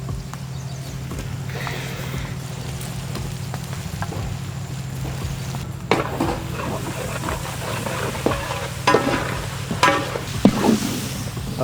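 Green chilies and ginger garlic paste fry in a pan for a chicken drumstick curry, giving a steady close sizzle with scattered scraping and stirring clatter that grows busier toward the end.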